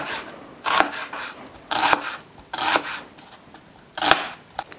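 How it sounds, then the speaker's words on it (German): A knife slices sour sausage (Extrawurst) into thin strips on a board, four short, crisp cutting strokes close up, with quiet gaps between them. "Und dann einfach so dünne Streifen geschnitten."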